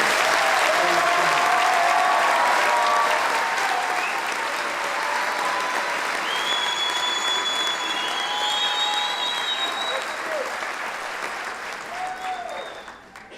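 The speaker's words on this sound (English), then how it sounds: "Will you please have a round of applause for the class of 2023" Graduation ceremony audience at Lebanon High School applauding the class of 2023, a large crowd's sustained clapping with a few whistles and faint voices mixed in, loud at first and gradually fading toward the end.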